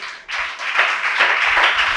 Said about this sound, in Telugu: చప్పట్లు కొట్టను గట్టిగా